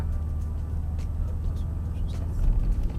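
A 2020 Ford Ranger Raptor rolls over a speed bump, heard from inside the cabin as a continuous low engine and road rumble with soft thumps and a slight swell near the end; a voice is faintly present.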